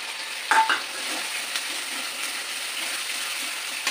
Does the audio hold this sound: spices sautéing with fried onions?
yes